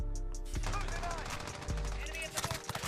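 Fast automatic gunfire from an MP5 in Modern Warfare multiplayer: dense, close bursts over a low game rumble, ending in a cluster of sharp separate shots.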